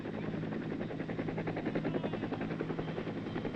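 A helicopter flies close overhead in a Vietnam War combat zone, its rotor giving a loud, steady rhythmic chop with a constant low engine drone, no voices present.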